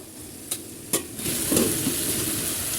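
Pumpkin pieces sautéing with drumsticks in a hot pan for a Bengali drumstick curry: a steady close sizzle with two sharp utensil knocks early on, then the frying grows louder and busier as stirring continues.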